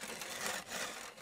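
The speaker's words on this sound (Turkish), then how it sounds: "Şimdi bunu testereyle düzgün bir şekilde, düz bir şekilde alacağım." Hand saw cutting through dry wood outdoors, a short burst of rough rasping strokes, close and steady.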